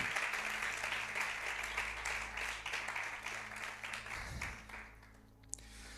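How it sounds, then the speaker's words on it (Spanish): Church congregation applauding at a Spanish-language service, a dense steady wash of many hands clapping with a low hum beneath, thinning slightly toward the end. "Dale un aplauso al Señor."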